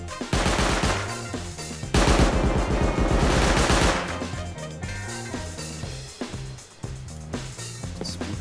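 Automated turrets in the game Rust hammer out sustained bursts of loud automatic gunfire while being baited near a tower at a mining outpost, with short pauses between volleys and no talking.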